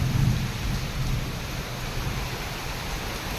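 Heavy night rain with thunder: a dense, loud wash of rainfall fills the scene, with a deep low rumble strongest at the start and fading gradually, no speech.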